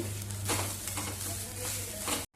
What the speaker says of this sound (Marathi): आता आपल्याला हे ओलं खोबरं सुद्धा चांगलं तुपावरती परतवून घ्यायचं 1 मिनिटभर.